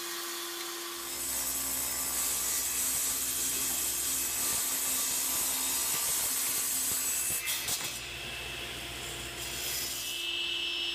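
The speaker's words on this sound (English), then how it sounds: "I want the zigzag pattern to be 1/4 inch wide, so I'm resawing the Jatoba to that." A piece of Jatoba hardwood is resawn into a quarter-inch strip for a segmented turned bowl, a steady, loud, continuous machine cutting roar with a grinding, rasping edge that stays constant throughout, with no talking.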